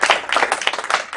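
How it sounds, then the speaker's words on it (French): A studio audience bursts into clapping for Philippe Lefort on a French comedy training show, a dense, loud wash of many hands lasting about a second. "je vous demande de faire un tonnerre d'applaudissements pour Monsieur Philippe Lefort."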